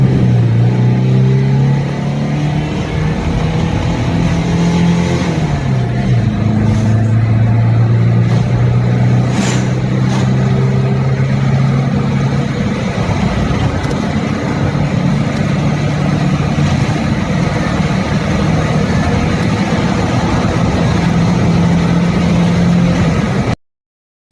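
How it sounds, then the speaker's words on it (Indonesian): A 2008 Isuzu Panther LV pulls hard through a full 0 to 100 km/h run. Its engine note rises steadily, dips briefly at a gear change and then climbs again, loud and continuous with no talking over it. "Saya juga melakukan pengetesan 0 ke 100 km per jam terhadap mobil ini"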